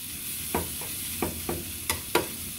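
Bacon sizzles in a frying pan while potato, cheese and bacon patties are prepared, a steady hiss broken by several sharp crackles and pops at close range, with no talk.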